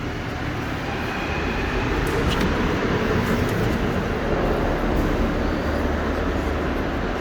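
At the entrance to a train station joined to a hospital, loud, continuous rumbling fills the space, with passing rail noise, traffic and a broad wash of ambient din.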